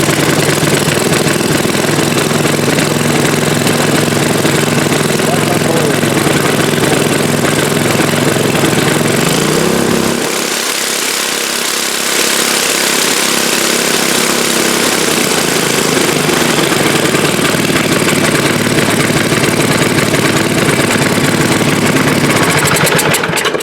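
A 7 HP Ariens snow blower engine runs loud and close, a dense steady roar that briefly dips and changes tone partway through before resuming at full throttle.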